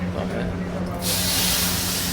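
Hot tadka tempering for chole at a West Delhi breakfast cafe bursts into a loud, steady sizzling hiss about halfway through, over kitchen rumble, with people talking nearby.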